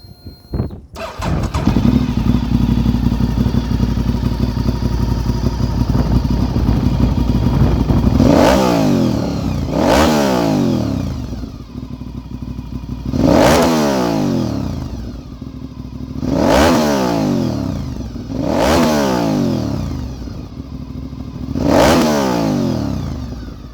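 A 2004 Honda RC51 V-twin sport motorcycle starts and idles loudly up close, then gets five or six sharp throttle blips, each revving up and falling back to idle.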